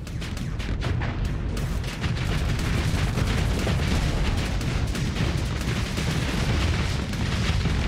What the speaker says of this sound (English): You're going to get destroyed by the explosion.